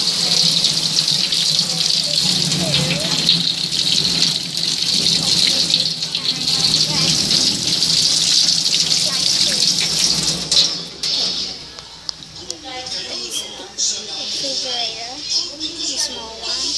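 A kitchen tap runs steadily while slime is washed under it, the water hissing loudly and continuously before easing off; a person talks over the flow and the dripping that follows.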